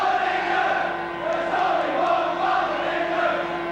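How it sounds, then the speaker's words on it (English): A large rugby league crowd at a 1986 St Helens versus Australia match sings and chants together, a steady dense roar of voices filling the whole stretch without pauses or individual talk. "Now this crowd here have got the same ability or capability to sing the songs the way the English soccer fans do"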